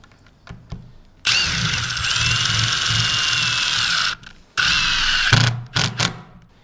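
A power drill drives screws into AdvanTech subfloor panels in a garage build, two loud sustained whirring bursts of about three seconds and one second, then short clicky blips, close up with no talk.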